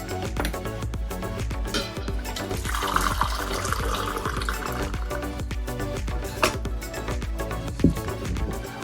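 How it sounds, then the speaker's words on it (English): Water pours steadily into a 3-litre Cresimo airpot, a continuous close gurgling splash that rises slightly as it fills, with a couple of small clinks. "And let's pour some water."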